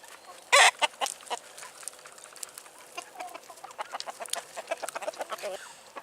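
Soft clucking from a few chickens with quick scratchy pecking sounds, starting with a brief louder burst.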